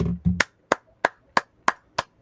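Single pair of hands clapping slowly and close by, about six sharp, evenly spaced claps after a couple of brief low thuds, with a short silence between each.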